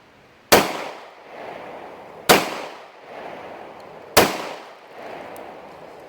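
Three sharp shots from a gun firing reloaded aluminum-case rounds ring out at even intervals of roughly two seconds, each crack loud and close with a short echoing tail, and no one speaks.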